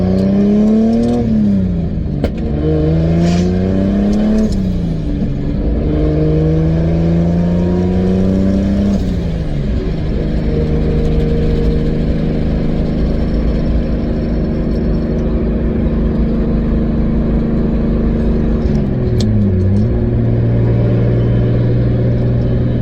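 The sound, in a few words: Nissan 350Z with 2JZ engine swap cruising in fourth gear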